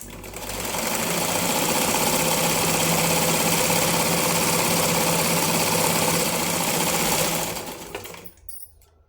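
A sewing machine stitches lining cloth for a blouse in one continuous close whirring run with a steady needle chatter, then winds down and stops near the end.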